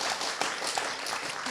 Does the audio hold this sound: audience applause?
yes